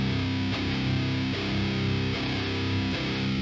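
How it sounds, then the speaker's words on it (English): Electric guitar through a free amp plugin with gain cranked into fuzzy distortion, thick buzzing chords struck roughly every second in a steady rhythm, loud and saturated with no talking. "it's also got a very fuzzy distortion on here"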